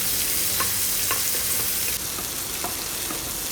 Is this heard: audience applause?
no